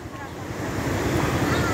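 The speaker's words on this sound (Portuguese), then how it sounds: "O açude está derramando água pra caramba." Water from an overflowing reservoir rushes in a steady, broad roar during heavy rain in Salgueiro, Pernambuco, loud and continuous with wind buffeting the microphone and no speech.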